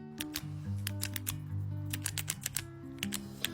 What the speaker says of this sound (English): Will you stop clicking that pen?